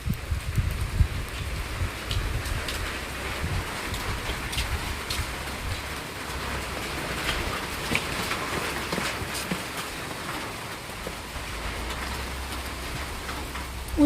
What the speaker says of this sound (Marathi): जोरात आलाय पाऊस.